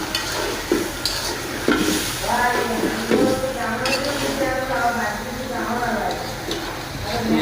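Meat being stir-fried in a pan for a Bengali kosha, with steady sizzling and scraping under ongoing talk, plus occasional louder clanks of the spoon against the pan.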